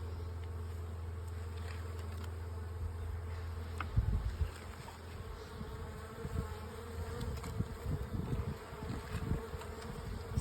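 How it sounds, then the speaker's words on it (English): A wasp buzzes close by over a beehive frame, a continuous droning hum that swells and wavers as it moves around, steady and fairly near with no voices. "There's just a wasp on the frame there, Matt."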